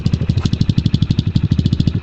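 A 2019 Xmotos 250cc dirt bike engine idles close up with a fast, even, loping thump, each firing pulse distinct and regular at steady volume with no talking.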